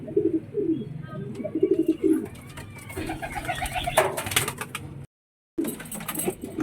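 Pet pigeons coo in a rhythmic series of low, throaty calls close by, with rustling, faint chirps and mechanical clatter, followed by a brief silent gap.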